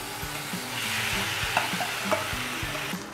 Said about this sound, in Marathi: याच्यामध्ये आपण आता ही भाजी घालूयात।